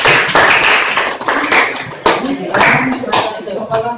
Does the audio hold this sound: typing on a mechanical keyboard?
no